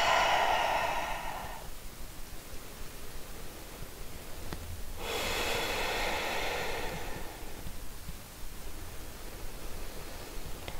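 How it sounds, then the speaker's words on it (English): Slow deep breaths during a high-energy hip-opening yoga flow, a long airy exhale fading out, then another soft breath drawn in a few seconds later, close and quiet with no talking. "Control those lovely deep breaths."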